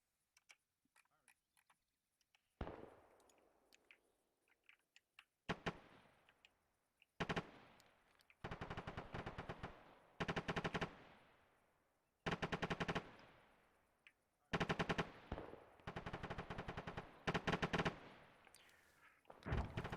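Machine gun fire on a squad training range, repeated sustained bursts of rapid shots at steady intervals, sharp and close, with radio-style voices talking between and over the bursts.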